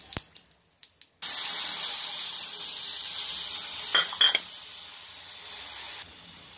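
Dried red chilli and mustard seeds hit hot oil in a pan, starting with a few sharp clicks, then a sudden steady loud hiss with brief crackling pops partway through before it quiets.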